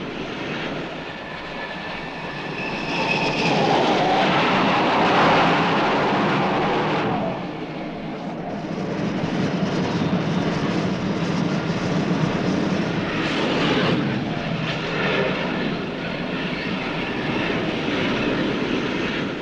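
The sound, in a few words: aircraft launched by catapult from carrier USS Constellation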